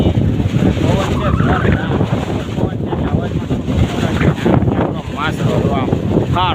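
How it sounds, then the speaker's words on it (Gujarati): Wind blows across an open farm field, roaring and buffeting the microphone in a steady, loud rush, with someone talking over it. "પવન છે"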